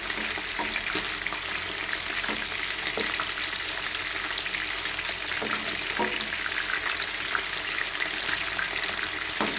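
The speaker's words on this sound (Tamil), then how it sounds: "இப்போ பார்த்தீங்கன்னா சிக்கன் திருப்பி போட்டாச்சு, வெந்துட்டுருக்கு" Chicken pieces fry in a pan for a hotel-style gravy, giving a steady, loud, dense sizzle with faint crackles throughout and no talking.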